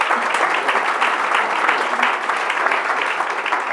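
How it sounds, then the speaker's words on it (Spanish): An audience at a conference applauds a speaker being introduced, a dense, continuous burst of many hands clapping, loud and steady for several seconds. "Un aplauso para él."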